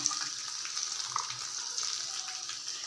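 Green chillies frying in hot oil for Kanchipuram idli, a steady, even sizzle that holds close and unbroken with no talk.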